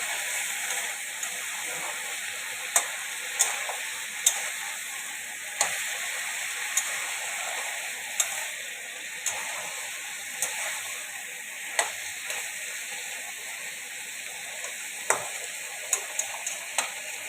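Tangra fish curry with potatoes, spring onions and aubergine sautéing in a pan, giving a steady close sizzle broken by regular light taps and scrapes of a stirring spoon.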